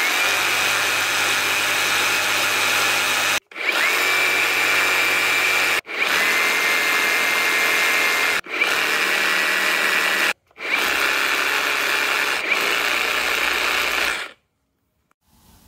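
Metabo SSEP 18 LTX BL MVT cordless reciprocating saw cutting, loud and close, in five long steady buzzing runs split by brief pauses, ending in near silence.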